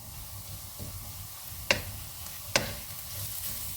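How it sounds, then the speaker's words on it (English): Vegan creamy tandoori made with JUST Meat being stirred in a pan, giving a soft, steady low scraping with a faint sizzle and three sharp utensil knocks against the pan. "so let's stir that up"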